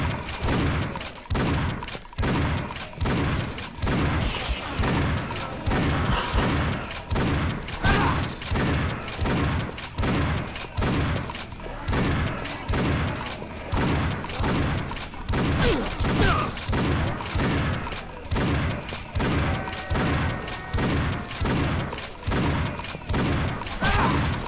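Rapid, evenly spaced bursts of gunfire from weapons in the first-person shooter Painkiller repeat without a break for the full stretch, loud and close, with thuds and clanking mechanisms underneath.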